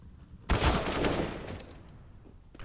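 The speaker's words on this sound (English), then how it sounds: "both the pistols in a crossfire" Pistol fire from two players trading shots in a crossfire in Counter-Strike, a loud sudden volley of rapid cracks that fades into a decaying burst of shots and reverb.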